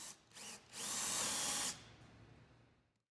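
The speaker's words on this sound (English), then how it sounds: "I then drilled 1/2 inch holes through the 2 sheets of 1/2 inch plywood." A power drill bores 1/2 inch holes through two stacked sheets of 1/2 inch plywood for a small sailboat's centerboard: two short bursts, then a loud, sustained whine that cuts off and trails into quiet.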